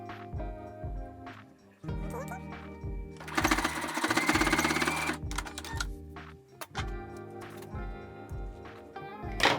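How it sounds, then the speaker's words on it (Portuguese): A sewing machine stitches the strap onto a small fabric phone pouch with a flap, running in several rhythmic bursts separated by brief pauses. It is close and fairly loud, with no talking. "eu escolho um lado para minha alça e venho aqui e faço a costura"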